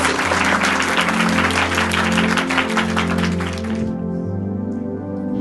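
A church congregation claps loudly and fast for several seconds, then the clapping stops abruptly and sustained keyboard chords carry on alone.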